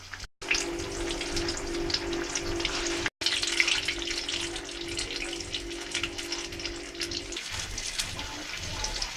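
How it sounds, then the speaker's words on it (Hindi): Batter-coated chillies for mirchi vada deep-frying in hot oil: a steady, close bubbling sizzle with a faint hum underneath, broken by one brief dropout, with no voices. "इसको हम गरम तेल में डाल देंगे फ्राई होने"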